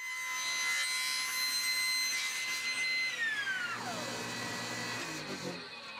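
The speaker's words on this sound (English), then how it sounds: "Next, I added a curve straight down the center of it on the table saw." A table saw cuts a curve into a piece of cherry wood, its steady whining tone dropping in pitch as the blade bites into the board, loud and close, running throughout without talk.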